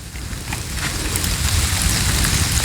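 Steady rain falls outdoors, a dense even hiss with scattered drop patter and a low rumbling undertone, fairly close and constant, with no voices.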